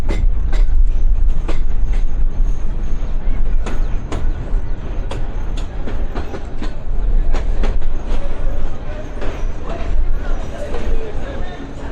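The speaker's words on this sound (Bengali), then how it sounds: "তো রংপুর রেল স্টেশনে আমাদের ট্রেনটা দাঁড়িয়ে আছে এখন" A train at Rangpur railway station produces loud, steady rumbling with sharp rhythmic clicks and clanks recurring throughout, close by, with some voices faintly mixed in.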